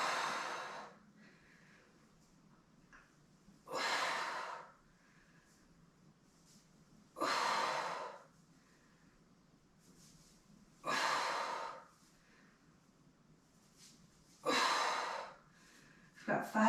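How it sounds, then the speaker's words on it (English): During a pregnancy-friendly strength workout, a person takes heavy, controlled breaths close to the mic: five strong, rhythmic exhales about every 3.5 seconds, with quiet breathing and faint low talk between them. "Controlling that breathing."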